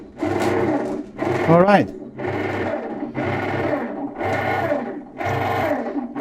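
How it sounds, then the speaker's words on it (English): Bread machine motor running on a repair bench after power-on, a loud steady hum pulsing in repeated bursts about once a second, with a brief rising whine near the start and a short remark spoken over it. "There is a motor running"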